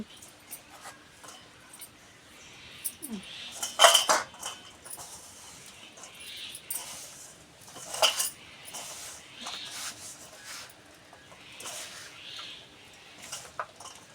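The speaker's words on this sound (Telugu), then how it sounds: "మొత్తం కూడా కలిపేసుకుందాము కారం అంతే" Chili powder being stirred into an onion pickle: intermittent scraping and clinking of a spoon against a bowl, soft and close, with a few sharper knocks between quieter rustling stirs.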